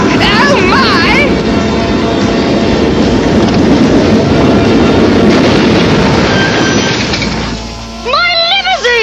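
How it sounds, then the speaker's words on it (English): A loud, roaring train passes in a dense rumble, then cuts off abruptly; excited voices shout before and after it. "The train!"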